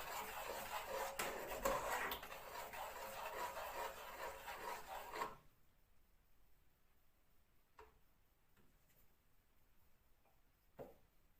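Vanilla being stirred into Jamaican cornmeal porridge, a steady close scraping and rubbing of a utensil in a pot for about five seconds, then quiet with a few faint taps.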